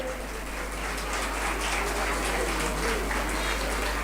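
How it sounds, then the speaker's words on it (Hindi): Audience at a school annual result ceremony claps in a dense, steady, even wash that runs throughout at moderate loudness. "आप लोगों की भरपूर तालियां बजती रहनी चाहिए।"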